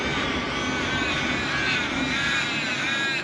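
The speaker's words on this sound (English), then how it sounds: "And there's the train going past." A train rolls past a campsite at Major Creek, a steady broad rumble and roar that holds loud and even throughout with no talking.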